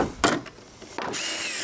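A power drill briefly whirs, pauses, then runs steadily, driving surface screws into a wooden deck landing as part of building a landing and stairs.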